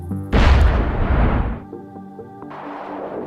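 A giant cannon built with the Minecraft Create mod fires with one heavy boom that rolls off over about a second, followed by a fainter, steady mechanical hum.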